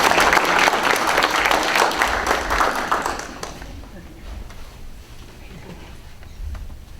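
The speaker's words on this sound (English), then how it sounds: "So if we could give a round of applause to Juliana." Applause at a school board meeting honoring a student of the month: loud, close clapping for about three seconds, then thinning into scattered claps and room noise.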